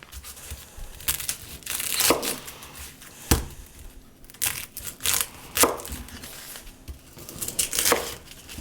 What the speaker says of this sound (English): I'm just going to start by getting these chopped up.